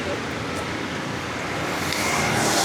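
A small car drives along a road in Sri Lanka in light rain, giving a steady, close rush of road and engine noise that grows slightly louder toward the end.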